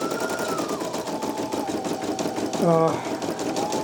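A Brother PE-900 embroidery machine stitching steadily up close, with its fast, even mechanical rattle running throughout and a brief louder whirring burst near the end as a jump stitch is cut.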